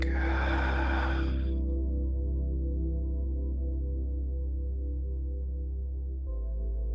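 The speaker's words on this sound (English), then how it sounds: "And exhale, give it back." Slow, deep exhale during a guided breathing meditation, a soft rushing breath close to the mic that fades out after about a second and a half, leaving a quiet low hum.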